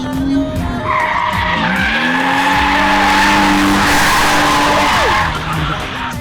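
A drift-prepared BMW slides with loud, sustained tire squeal and screeching. The engine revs rise and fall beneath it, close by and continuous for several seconds.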